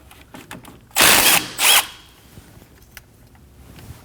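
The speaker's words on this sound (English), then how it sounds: "Using a 12mm socket, go ahead and take it out." A 12mm socket on a ratchet backs out a bolt on a 2011-2016 Kia Optima during front wheel speed sensor work, giving two loud, close bursts of rapid clicking, a longer one then a shorter one, surrounded by quiet.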